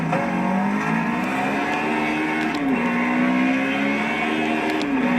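A car engine in the Project Cars racing game revving while the car sits on gravel and struggles to pull away, a loud steady drone whose pitch climbs and dips with a few shifts, no voices.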